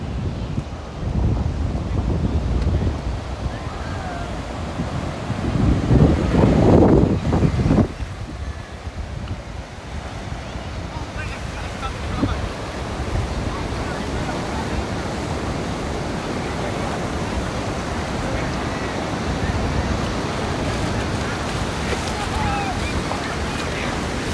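Ocean surf rolls onto Huntington Beach, California, where kids bodyboard and skimboard. The waves wash in continuously with a surge of louder breaking early on, under steady wind noise against the microphone.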